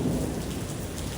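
Heavy rain with a deep thunder rumble during a lightning storm, a dense, loud, continuous wash of sound with no voices.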